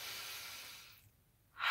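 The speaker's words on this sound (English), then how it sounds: "Take a few breaths for me." A slow, deep breath out fades away and is followed after a short pause by the start of a sharp breath in. The breathing is close and airy, with no speech.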